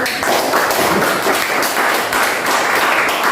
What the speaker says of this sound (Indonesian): beri aplaus untuk Aldi